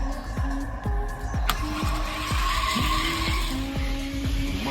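Hot Wheels diecast cars rolling down a plastic track in an A class race, giving a steady rumbling whir with repeated rhythmic clicks as wheels cross track joints, plus a sharp snap near the start; no talking.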